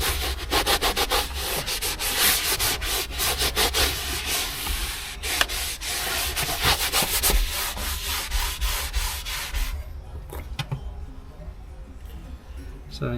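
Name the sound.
scrubbing car with Scrub Ninja pad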